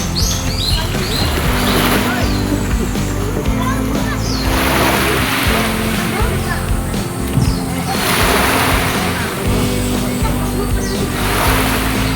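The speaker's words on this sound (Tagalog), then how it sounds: "pagmasdan natin ang alon" Ocean surf at a coastal tourist spot in Lianga–Barobo, Surigao del Sur, Philippines: loud waves breaking and washing in repeated surges every few seconds, with bird chirps over the steady roar.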